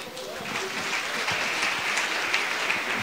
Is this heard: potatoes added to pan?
no